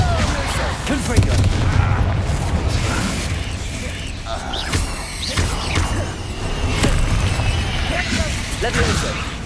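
Spell blasts from the Hogwarts Legacy video game, the fire spell Confringo cast repeatedly in combat, heard as dense booming impacts and crashes over a steady rumbling battle bed, with voices speaking throughout.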